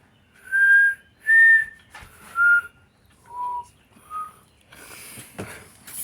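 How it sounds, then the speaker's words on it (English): A person whistles by sucking air inward, producing five short, clear tonal notes with pitch glides, heard close and alone, followed by rustling handling noise. "My whistling is a suck in thing."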